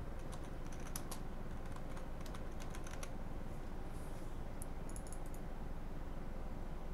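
Steady keyboard typing at a computer while setting up a Blade & Soul weapon reroll, soft clustered keystrokes continuing throughout over a constant low background hum, with no talking.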